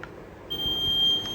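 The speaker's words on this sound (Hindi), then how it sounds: "अभी अलार्म बज रहा है" A small buzzer in a conductivity circuit with a metal rod dipped in water sounds a steady high-pitched electronic tone that switches on abruptly and holds, close and fairly loud.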